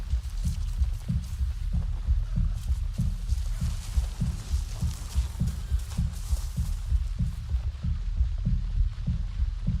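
Steady, loud heartbeat effect from Avatar: Frontiers of Pandora, a regular deep double-thump pulse repeating throughout with a faint airy background and no speech.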